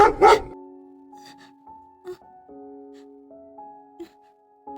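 A dog in a narrated Tamil story gives a couple of loud barks at the very start, followed by soft melodic tones and a few quiet thumps.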